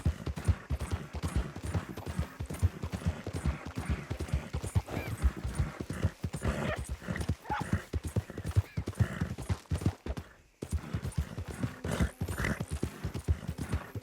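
Rapid, continuous clip-clop of horse hooves at a gallop in the video game Red Dead Redemption 2, loud and close, with a brief break partway through.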